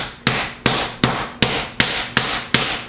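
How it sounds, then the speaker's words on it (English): A mallet pounds chicken meat flat to about half an inch thick, giving seven loud, evenly spaced thuds roughly every 0.4 seconds, each one fading before the next blow lands. "we're going to just keep pounding this thing until we get it"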